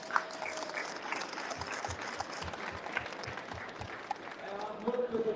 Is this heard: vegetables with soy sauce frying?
no